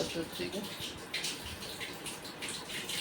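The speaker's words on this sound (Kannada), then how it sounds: "ನೀರು ಹೊಂಟು ನೋಡ್ರಿ" Tap water runs steadily into a container, a continuous rushing splash filling the whole stretch at moderate loudness.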